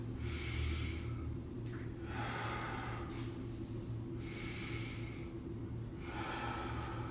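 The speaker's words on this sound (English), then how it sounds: "I'll take 5 deep breaths first" Slow, deep breaths through the nose, four long airy inhales and exhales in a steady relaxed rhythm, close and clear over a low steady hum.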